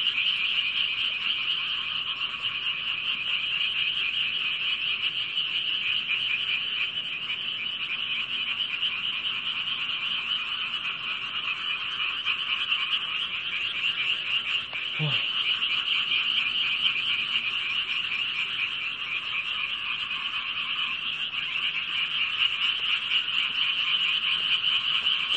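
Frogs croaking loudly and continuously on a rooftop, a dense, pulsing chorus that fills the whole stretch at steady volume, with one brief low thump partway through and no talk.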